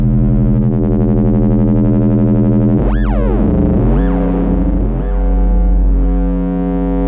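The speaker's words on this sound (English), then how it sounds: "A little bit of reverb." A droning synth note holds steady, then a bright pitch swoop rings out through reverb and smears into a washy, lingering tail, with further bends fading into reverberation.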